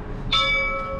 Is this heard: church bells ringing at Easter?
yes